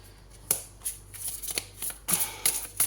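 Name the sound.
shuffling tarot cards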